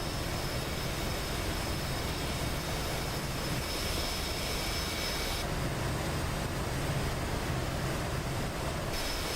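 An F-14B Tomcat launched by carrier catapult in DCS gives a steady, loud roar of jet engine noise that holds throughout, with a broad hiss that shifts partway through and no speech.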